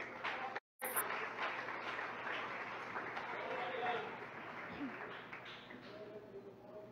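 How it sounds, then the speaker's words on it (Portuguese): A church congregation applauding during a Portuguese-language worship service, a broad wash of clapping and crowd noise after a brief cut, continuing steadily at moderate distance with some voices mixed in. "Aplauda o Senhor Jesus, amém?"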